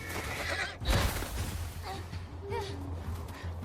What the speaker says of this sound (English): How you gonna kill a horse?